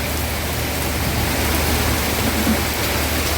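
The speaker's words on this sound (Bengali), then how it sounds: "মোবাইলে পানি পড়বে, কাছ থেকে দেখাতে পারতেছে না, প্রচন্ড ঝড় বৃষ্টি" Steady, dense rainfall hisses without a break, a heavy rainstorm in Dhaka city filling the whole clip with even broadband noise and a low rumble underneath.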